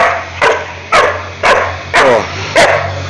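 A dog playing with a ball on a home street gives five loud, close barks at a steady pace, with a low hum beneath them.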